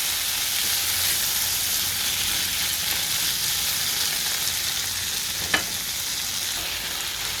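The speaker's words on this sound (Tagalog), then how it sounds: "Nakita niyo, gisa-gisa na natin" Bitter gourd (ampalaya) sautéing in a pan gives a steady, loud frying sizzle throughout, with a brief clink of a utensil against the pan near the end and no voices.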